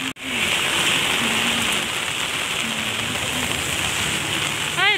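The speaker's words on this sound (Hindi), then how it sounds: "I love walking in the rain, you know, जब बारिश होती है, और मुझे पसंद है बारिश में चलना" Steady, close rain falls outdoors while someone walks, a dense even hiss that fills the whole stretch with no talk over it.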